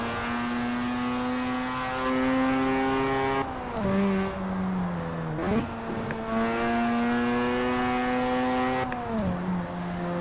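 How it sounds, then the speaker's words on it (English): A Mazda RX-7 rotary engine in Forza Horizon 4 revs hard and smooth, climbing in long pulls with sharp drops at the shifts, loud and close throughout. "this RX-7 in particular sounds brilliant"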